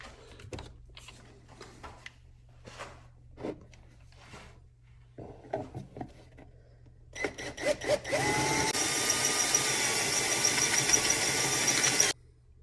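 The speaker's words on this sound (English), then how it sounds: "that's drilling out those holes" Power drill boring holes through a fabricated speedometer mount for a Harley-Davidson Sportster S motorcycle, with short bursts, then a sustained steady whine that runs loud and close for several seconds before cutting off.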